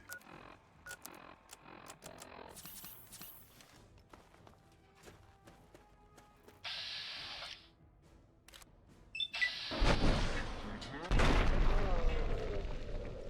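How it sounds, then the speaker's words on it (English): In the video game Fallout 3, a missile launcher fires amid sharp clicks and clatter, ending in loud booming blasts and a roaring explosion, with a voice talking over the action. "I got my own missile launcher."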